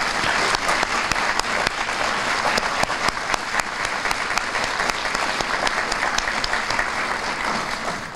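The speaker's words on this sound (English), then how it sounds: "Let's all give him a round of applause." A roomful of guests at a community breakfast gives a sustained round of applause, dense and even with sharp individual claps standing out, continuing steadily before tapering slightly at the end.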